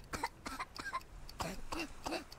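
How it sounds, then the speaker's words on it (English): Repeated coughing and throat clearing from a character in the Worms Reloaded video game, a string of six or seven short, fairly quiet coughs in an uneven rhythm. "That coughing, man. It's really annoying, isn't it?"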